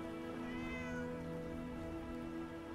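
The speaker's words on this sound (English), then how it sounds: "Where's that cat?" A cat in the video game Fallout 76 gives a long, drawn-out meow, close and steady with clear tonal harmonics, and no one talks over it.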